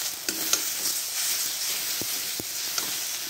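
Lentil dumplings (bori) frying in a pan with a steady broadband sizzle, a few sharp utensil clicks and scrapes of stirring, close and moderately loud, no voices.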